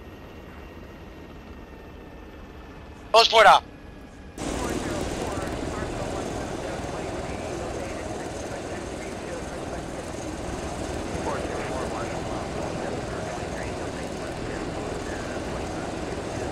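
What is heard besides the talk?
helicopter engine in Arma 3 video game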